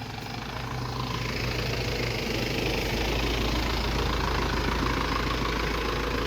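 A car engine idles steadily at close range as the car pulls in to park beside another car, with a low, even rumble and no voices.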